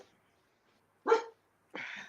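Dogs bark in two separate outbursts about half a second apart, close by and fairly loud, breaking an otherwise quiet background with no talking.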